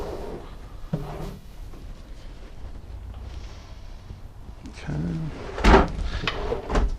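Large kitchen drawers in a new 2020 Newmar Ventana 3407 motorhome slide open and ease shut with soft-close action: a few muted thuds and sliding rumbles, close by, with a louder knock near the end and faint room noise throughout.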